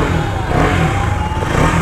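A Husqvarna Vitpilen 250 motorcycle, a 2023 BS7 OBD-2 model, runs up close with a loud, continuous engine roar and exhaust rumble, the revs rising and falling slightly.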